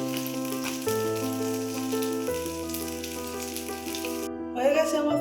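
Pomfret fish frying in oil, a soft, steady sizzle running beneath sustained background music, swelling louder near the end.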